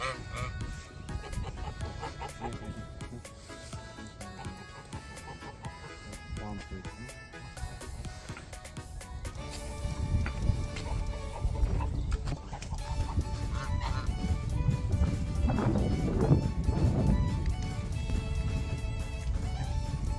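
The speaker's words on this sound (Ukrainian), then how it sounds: "Ну, гуси, вони і в Бельгії гуси." A flock of geese honk repeatedly and overlapping, loud and close on a small farm in Belgium, with the clamor building and growing busier toward the end.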